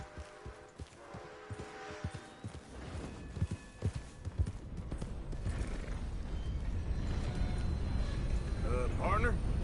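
Horse hooves in the video game Red Dead Redemption 2 clip-clop in a steady rhythm, then give way to rising wind and rushing noise, with a brief whinny-like squeal near the end.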